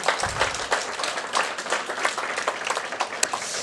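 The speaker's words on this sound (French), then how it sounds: "Vous pouvez les applaudir." Applause from an audience at a political event on the sea, a dense, steady patter of many hands clapping throughout, moderately close.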